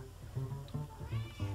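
A pet cat in The Sims 3 meows several times in quick succession, short clear game-sound mews repeating at a steady pace over quiet background.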